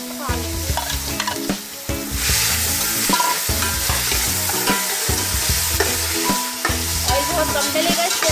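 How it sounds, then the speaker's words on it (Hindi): Capsicum frying in a little oil in an open pot, a loud close sizzle with constant clattering stirring throughout, no voices. "थोड़ा सा तेल डाल के पतीले में सबसे पहले हम शिमला मिर्च को फ्राई करेंगे"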